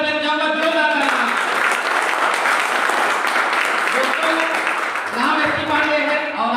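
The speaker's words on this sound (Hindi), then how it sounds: "हमारे great leader mister Manoj Kumar sir ने चाहूंगा जोरदार तालियां।" Loud audience applause at a business meeting fills the whole stretch as a dense, steady roar of clapping, with a voice speaking over it at the start and again near the end.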